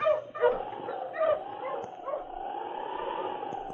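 Huskies bark and whimper at close range, a few sharp yips early on giving way to a sustained whining howl, loud and with no talking over them.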